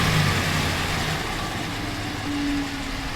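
A Ram 1500 pickup truck engine idles with a steady low rumble and a rapping vibration, loud and close, with no other sounds over it.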